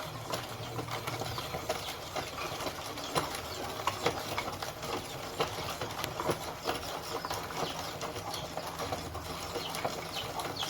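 Kente weft yarn being spun by hand makes a continuous soft rattling, clicking mechanical clatter with an irregular wooden rhythm, steady and close throughout without talk.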